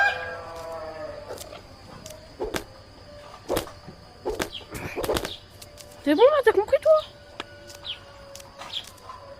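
Chickens cluck in the video game I Am Cat, a quick flurry of agitated clucks over faint background sounds, with someone talking just before.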